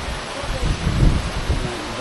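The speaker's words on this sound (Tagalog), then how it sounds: "Lakas ng ulan." Heavy rain at an outdoor fishing pond, a dense, continuous roaring wash with low rumbling swells, steady throughout.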